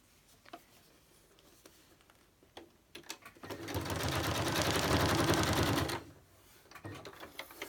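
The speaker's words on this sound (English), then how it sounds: "I'm just going to stitch down it with my machine" A sewing machine stitches down a DT craft project in a steady fast whirring run of about two and a half seconds, with scattered light clicks and handling before and after.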